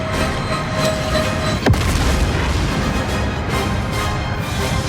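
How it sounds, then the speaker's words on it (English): Turret fire in the Star Wars Outlaws video game: one sharp, heavy boom cuts through a dense, steady wash of rumbling battle noise, with no speech. "You're being hit, Kay. Turret is active, Kay"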